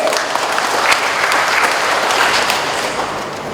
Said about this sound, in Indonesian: Kasih aplaus untuk para peserta ini.